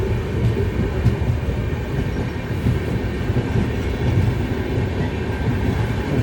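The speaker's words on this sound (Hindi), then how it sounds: "हमारा ट्रेन अभी तक एक्सेलरेशन ठीक से नहीं पकड़ा है" From inside a passenger train on a long-distance journey, a loud steady rumble of wheels on track fills the whole stretch with faint rhythmic clatter and no voices, as the train slowly builds speed.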